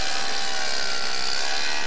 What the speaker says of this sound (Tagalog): Imbis na pala, may makina. Ayun, lumalabas ang yelo.